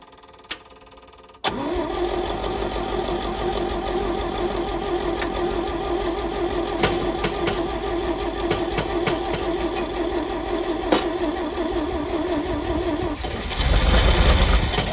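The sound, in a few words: engine starting and idling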